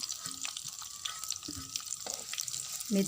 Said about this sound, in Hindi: मेथी को ब्राउन होने दो